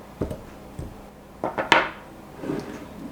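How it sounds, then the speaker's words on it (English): A pastry blender cuts shortening into flour in a bowl, making scattered dull knocks and scrapes. Several taps come close together, followed by a soft rubbing swish, fairly faint and with no talk. "I'm going to use my pastry blender"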